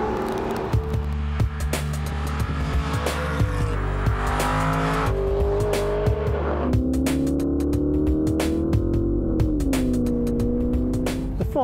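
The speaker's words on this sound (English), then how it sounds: "Aston Martin is now bringing me a Virage convertible for an afternoon drive in the countryside" An Aston Martin Virage convertible with a 490 horsepower engine drives through countryside, its engine note steady and strong, rising and falling through gear changes at close range for the whole stretch.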